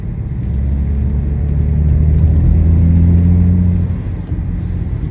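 Loud, steady low exhaust drone from a BMW 330d E90-series diesel with the rear silencer box deleted, a deep rumble that holds for several seconds and then eases off, heard from inside the car.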